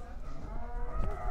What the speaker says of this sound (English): She's a rescued dairy cow.